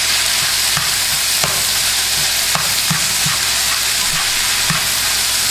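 Rotel dip ingredients cook in a pan with a loud, steady frying hiss up close. Light spoon taps and scrapes recur every second or so, and nobody speaks.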